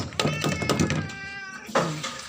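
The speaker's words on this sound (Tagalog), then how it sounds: "Mga pusa." Pet cats being fed meow repeatedly close by, a run of several overlapping plaintive meows followed after a short pause by another clear meow, with no talking.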